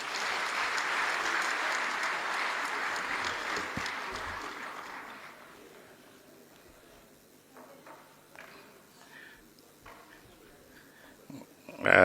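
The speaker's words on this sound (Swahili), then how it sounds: "Makofi tena mengi." Applause from an audience at a presidential dividend ceremony rings out loud and dense, then fades over a few seconds into scattered claps and quiet room noise.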